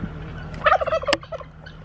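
A turkey gobbles loudly and close, a quick rattling burst of warbling calls that ends abruptly, with quiet background before and after.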